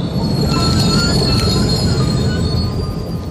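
The Venkatadri Express runs on the rails near Shadnagar with a loud, steady rumble of wheels and thin metallic squeals throughout, close and continuous, with no voices.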